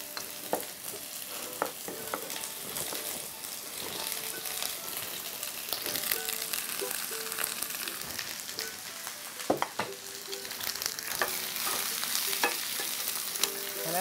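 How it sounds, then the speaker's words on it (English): Onions fry in olive oil, sizzling and crackling steadily in a hot sauté pan, with occasional stirring scrapes and pops, close and continuous. "go ahead and start frying those onions"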